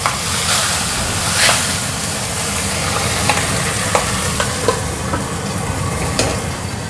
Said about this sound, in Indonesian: Terus hari ini aku mau gorengin ubi untuk mbokku